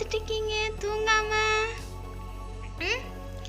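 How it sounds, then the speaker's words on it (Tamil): A kitten gives a few thin, high meows close by at home, with a voice talking softly alongside it. "பூனைக்குட்டி பூனைக்குட்டிங்க, இது குட்டி என்ன முழிச்சு பார்த்துட்டு இருக்கீங்க தூங்காம?"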